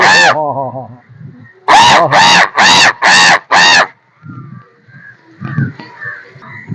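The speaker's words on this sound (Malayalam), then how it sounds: "ഇതാ കാക്ക അവിടുന്ന് ഇവിടുന്ന് വരുന്നു കാക്കകൾ ഇഷ്ടം പോലെ വരുന്നുണ്ട്" A run of five loud, evenly spaced caws sounds up close, with a few quieter squawks and soft background noise around it.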